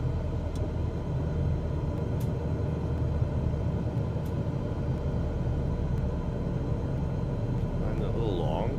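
Airliner on final approach and touchdown at LaGuardia in Microsoft Flight Simulator 2020, a steady loud low engine rumble and roar throughout, with faint speech murmuring over it.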